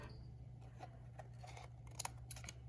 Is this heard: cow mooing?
no